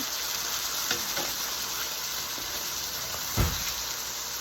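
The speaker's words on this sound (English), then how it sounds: "Okay, I'm going to flip my meat and season this side." Flipped cube steak sizzles in a hot pan, a steady, close frying hiss that runs throughout, with a few soft clinks and one brief thump.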